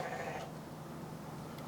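A goat bleat sample sits inside a hip-hop beat, a nasal wavering cry near the start that fades into a steady looping backing with a low bass drone, moderately quiet throughout.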